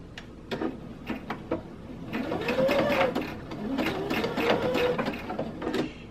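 A sewing machine stitches a doily onto flannel fabric, starting with a few spaced single stitches, then running in quicker whirring bursts with brief pauses, quiet and close.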